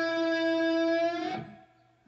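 Electric guitar playing a lick: one sustained, harmonically rich note with a bend that rings for about a second, then decays and fades out, heard alone.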